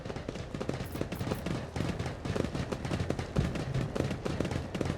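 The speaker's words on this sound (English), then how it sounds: "And now sadly I think I'll have to shoot him." Rapid gunfire from the video game Warhammer 40k Rogue Trader, dense bursts of sharp cracking shots in quick succession, loud and continuous for several seconds with no talking.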